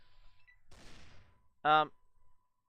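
A single gunshot bursts out in the video game Fallout 2, in a bar in the Den. It is followed after a short pause by a brief, louder tonal voice-like sound, with faint background ambience throughout.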